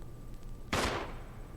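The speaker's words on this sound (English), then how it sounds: "There was a gunshot." A single sharp gunshot rings out in the Resident Evil remake video game, a sudden loud blast with a short echoing tail in a quiet indoor scene.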